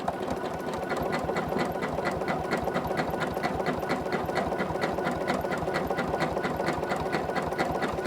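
Sewing machine doing free motion quilting with yarn, a steady rapid mechanical stitching rhythm running loud and continuously throughout.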